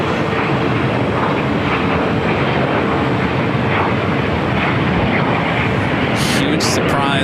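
Lufthansa flight 457 in a retro livery takes off from runway 24 at LAX, a steady, loud roar of jet engines filling the air.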